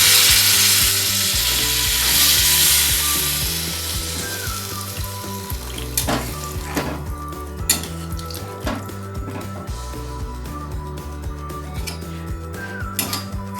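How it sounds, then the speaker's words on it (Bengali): Water poured into a frying Bengali-style potato curry (aloo dum) while it is stirred: a bright hiss and sputter at first, settling into a quieter bubbling simmer with repeated scraping clicks of the spoon against the pot. "আলুর দমটা নাড়তে নাড়তে জল ঢেলে দেবো"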